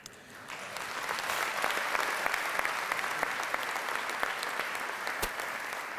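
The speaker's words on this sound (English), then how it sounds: "let's give a deserving round of applause to our honoree for our Youth Leadership Award in Education, Ms. Grace Bush." Audience applause at a Salute to Youth awards luncheon, a sustained wash of many hands clapping that swells after the first second and holds steady, fairly close and full, with no talk over it.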